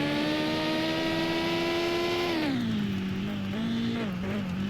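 A car engine drones loudly in the off-road driving game Mon Bazou, its pitch holding steady, then dropping as the revs fall and wavering at a lower idle-like level.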